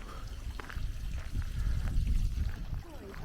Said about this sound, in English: Lovely little water feature.